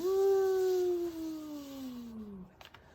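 A person's voice imitates a wolf howling at the moon: one long sustained howl, loud and close, gliding slowly downward before trailing off, with no other sound around it.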